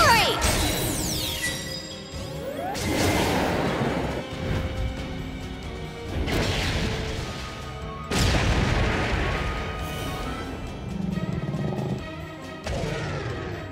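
Cartoon Meteorite Cannon attack from a dinosaur battle: a series of loud explosive booms and crashes, each burst followed by rumbling debris, repeating several times over a steady roaring background.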